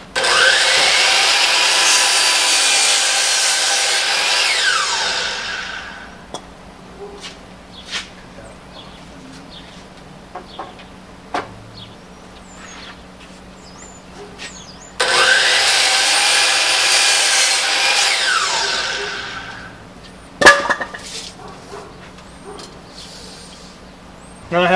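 A power saw cuts a wood board to length for a workbench build in two loud sustained bursts of several seconds each, winding down after each cut, with quiet shop sounds and a few knocks between.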